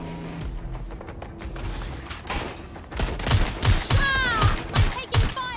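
Bursts of video game gunfire from Watch Dogs Legion, a dense fusillade of rapid shots building in the second half and loud against background game ambience, with a voice faintly beneath.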